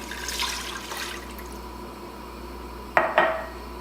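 Pho broth from a home-canned jar pours into a cooking pot with a soft, splashy liquid wash, followed by two sharp metallic clanks of cookware.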